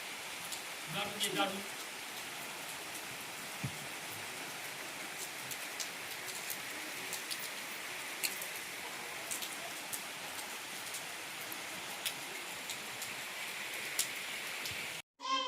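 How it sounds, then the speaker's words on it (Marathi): Steady, dense rain pours down, a constant hiss of drops on surfaces with scattered louder patters, briefly mixed with a faint voice early on. "पाऊस चालू होता ना"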